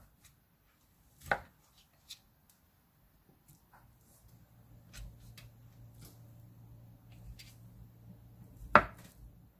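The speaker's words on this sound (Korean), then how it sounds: "먼저 전들을 썰어주세요." A knife cutting leftover Korean pan-fried fritters, including meat jeon, on a board: a few separate, crisp thuds spaced seconds apart over a quiet, low background hum.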